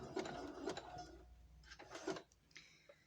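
A sewing machine runs a back-and-forth stitch while decorative elastic is sewn onto underwear, with close mechanical whirring and clatter in short bursts and pauses, some runs ending in a softer rattle.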